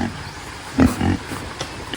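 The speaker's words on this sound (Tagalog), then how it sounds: "ito po yung baboy namin" A pig on a coconut farm gives two short, close grunts in quick succession over a quiet outdoor background, with a couple of faint snuffles afterward.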